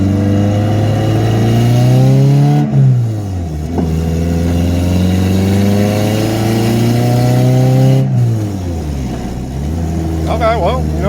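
A Honda Civic with an F23A engine hums and revs steadily while driving, its pitch rising and falling through gear changes, close and loud throughout.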